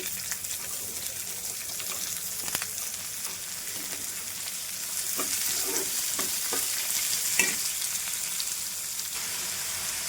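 Chopped onions frying in a pan after a tempering, stirred now and then: a steady, close sizzle with scattered scraping stir clicks and no talk.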